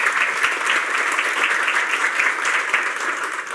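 A room full of people applauds a professor at a workshop, with dense, even clapping that holds steady for several seconds.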